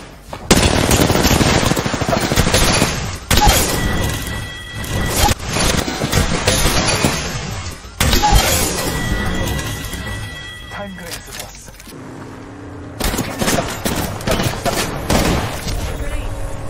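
Loud, dense automatic gunfire fills an Apex Legends firefight, coming in sustained bursts with brief gaps, while a voice talks over the shooting.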